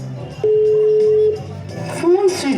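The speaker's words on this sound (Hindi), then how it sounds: "फोन करके देखती हूँ" A telephone being dialed during a Delhi Police street play: one steady electronic dial tone holds for about a second, loud and close, followed by talking and a few short higher beeps.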